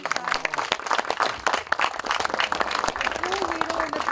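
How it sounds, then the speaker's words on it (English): An audience claps for Vishal at a film trailer launch event, with dense scattered clapping running throughout, mixed with voices and cheering. "Can we please clap for Vishal?"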